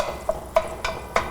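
Crumbled sausage fries in olive oil in a pot as a utensil breaks it up, giving four sharp, evenly spaced scraping knocks close by over a soft, steady sizzle.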